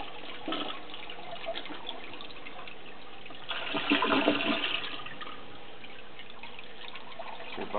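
Dirty toilet flushed with cigarettes in the bowl, starting with a faint trickle of water before a louder mid-clip rush of flushing, then a quieter draining and refilling trickle.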